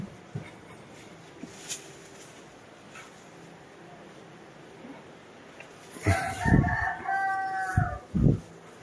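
A chicken on a home yard, clucking softly at first and then crowing loudly and close for a few seconds, with faint background noise.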